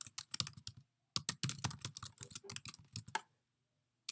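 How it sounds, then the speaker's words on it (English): Close, crisp keystrokes on a computer keyboard come in quick irregular bursts separated by brief pauses, with no voices over them. "Nice typing."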